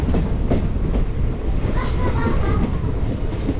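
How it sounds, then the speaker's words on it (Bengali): Local passenger train from Haldibari to New Jalpaiguri running on rails, a loud continuous rumble with rhythmic clatter and wind buffeting, heard from inside the moving carriage. "এখন আমাদের ট্রেন যাবে রানীনগরের দিকে।"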